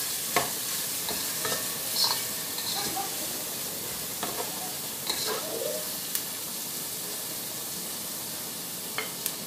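Chopped onion sautéing in a pan on a gas cooker, a low steady sizzle with occasional soft clicks of stirring, fairly faint and without talk.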